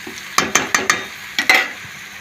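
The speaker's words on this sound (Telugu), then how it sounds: "ఇందులో అల్లం పేస్ట్ వేద్దాం. పచ్చివాసన పోయేదాకా వేయించుకోవాలి." Ginger paste fries with onions in a pan while a spoon stirs, producing six sharp clacks in two quick bursts over a faint sizzle.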